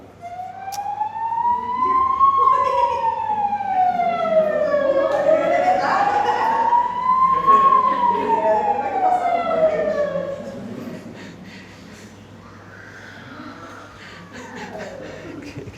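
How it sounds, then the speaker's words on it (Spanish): An ambulance siren wails, sweeping slowly up and down in long cycles, fairly loud, then fades toward the end with faint background sound. "la sirena de la ambulancia no te se olvida"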